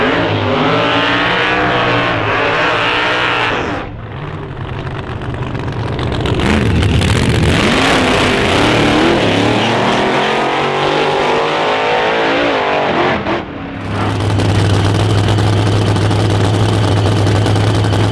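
Funny car drag racing engines at a qualifying day in Denton, loud and close, rumbling at idle, then roaring through hard revving bursts with a brief drop before the blaring note returns.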